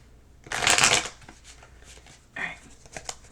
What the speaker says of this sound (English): Let me shuffle it real quick, though.